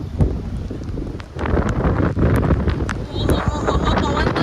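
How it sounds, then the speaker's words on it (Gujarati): A strong wind blows during a rainstorm, gusting loudly and buffeting the microphone in a continuous rough roar, with rain mixed in and a person talking at times. "જોરદાર પવન છે અને વરસાદ આવે છે"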